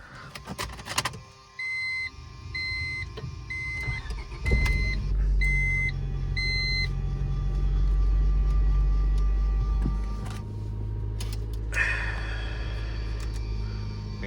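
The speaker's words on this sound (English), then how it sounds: "We're gonna let her warm up here just a minute before I start revving" A Honda Civic HX is started and left to idle while it warms up. A few door-chime beeps come first, then the engine catches and settles into a steady, close, low idle hum.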